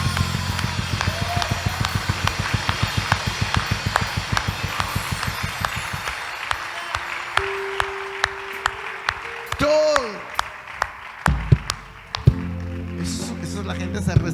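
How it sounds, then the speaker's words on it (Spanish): A church congregation claps in a steady, even rhythm for about six seconds. The clapping then thins out, giving way to sustained tones and a few scattered knocks and taps. "quiero oír el aplauso de todos los que están aquí también"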